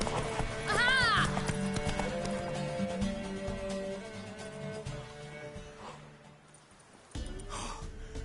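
A horse gallops and neighs in The Witcher 3, a loud whinny near the start followed by rhythmic hoofbeats under music, with a snort and a second neigh toward the end.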